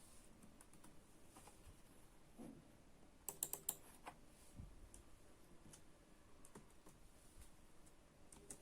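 Soft keyboard typing as C# code is entered, with quick irregular key clicks and a brief louder burst of taps in the middle, close and quiet with no talking.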